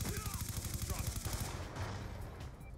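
A select-fire M8 rifle firing in Black Ops 2 Search and Destroy: a fast, dense stream of close shots that holds steady, then thins into a noisier tail with a distant crackle.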